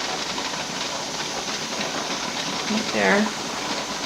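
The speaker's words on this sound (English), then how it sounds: "my lock has gone up and the steam is only coming out of the vent" Steam hisses steadily from the vent of a pressure canner holding pulled pork, a loud constant broadband rush lasting throughout, with a voice speaking briefly over it.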